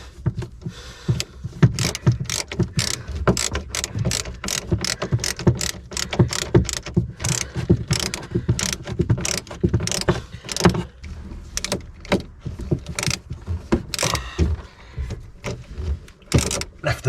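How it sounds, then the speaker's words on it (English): Screws being driven into wooden floorboards, a long run of rapid, rhythmic clicking and ratcheting bursts from a driver, close and fairly quiet, with no voices. "These screws bite really well, so let's get that first one in."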